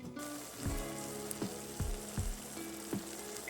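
Eggs fry in a hot pan with a steady soft sizzle and crackle, broken by a handful of sharp pops and spits, quiet and close with no talking.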